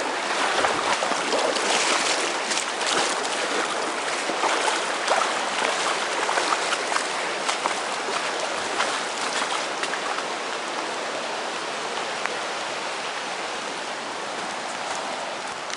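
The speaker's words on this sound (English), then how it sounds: "we've got another river crossing here" Rushing water of a river crossing on a hiking trail, a dense continuous broadband roar that stays loud and steady throughout, slowly easing slightly toward the end, with no voices.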